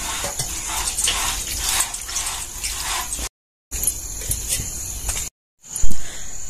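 Water is poured onto a cooking pot's lid, splashing steadily in a bright, hissing stream, broken by two short silences before resuming.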